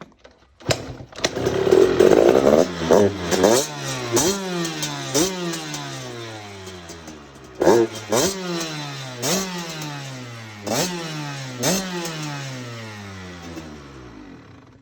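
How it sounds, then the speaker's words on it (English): A two-stroke motorbike that had been sitting unused starts and then revs hard several times, its engine rising and falling in buzzing, raspy surges, loud and close with no speech. "As you can see, it started pretty easily, and this bike's ready"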